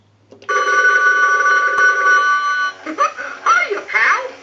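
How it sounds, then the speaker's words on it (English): An animated Mickey Mouse novelty telephone rings with a loud, sustained electronic bell tone for over two seconds, then its cartoon character voice starts talking in rapid, lively bursts. "we'll go ahead and ring Mickey again, and we'll let him go through a couple of cycles"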